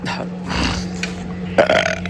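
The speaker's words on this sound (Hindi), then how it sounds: "मतलब खाना खाने के बाद जो डकार आती है ना" A person burps after eating a meal at home, a single drawn-out belch, close and fairly loud over a steady background hum.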